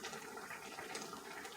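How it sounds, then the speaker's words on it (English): Ground beef tagine simmers in a pot on the stove, a faint, steady bubbling with soft liquid churning and no voices. "now that it's bubbling away all happily."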